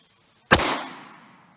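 A single sharp crack of a 9mm pistol firing a 115-grain standard-pressure round, loud and close, followed by a short fading ring.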